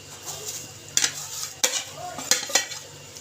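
Roasted roti pieces are stirred into milk in a pot over a low flame, with a few sharp metallic scrapes and clinks of a spoon against the pan over a quiet background.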